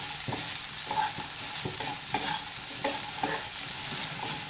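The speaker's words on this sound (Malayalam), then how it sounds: "ഇനി വീണ്ടും ഒന്ന് മിക്സ് ചെയ്തെടുക്കാം." Okra stir fry sizzles in a frying pan as a utensil stirs it, producing repeated scraping knocks in an uneven rhythm over a steady hiss, close and without talk.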